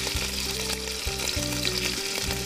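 Oil and flour frying together in a pan make a constant close sizzle under a steady low musical background, with no voices.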